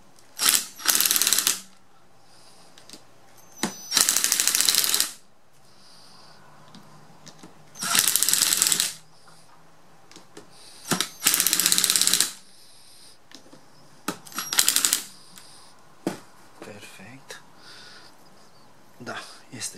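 A ratchet wrench tightens the rotor of a refrigerator compressor being converted into an electric generator, several loud bursts of rapid ratcheting clicks separated by pauses with scattered metallic taps and clunks.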